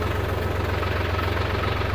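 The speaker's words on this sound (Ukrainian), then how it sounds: "Він хоч і трьохциліндровий, але реально працює як чотирьох. Тихенько, рівненько." A Solis 50 RX three-cylinder tractor engine idles nearby with a steady, even low-pitched throb and a fine rhythmic knock, running alone without talk.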